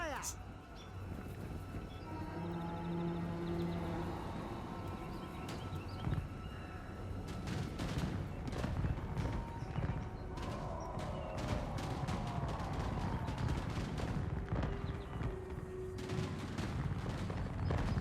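Repeated gunfire volleys and scattered shots crackle through a Total War Warhammer 2 battle as Empire ranks fire, dense and continuous over battlefield din, with someone talking intermittently.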